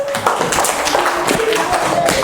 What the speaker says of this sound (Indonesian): Ya, beri tepuk tangan untuk Keila.